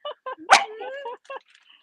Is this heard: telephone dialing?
no